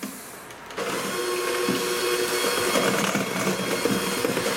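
An electric mixer runs steadily, blending cookie dough with added egg white and sour cream; a continuous motor whir starts up after a brief pause and holds at an even, fairly loud level.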